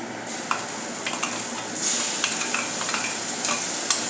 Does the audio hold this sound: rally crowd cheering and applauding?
no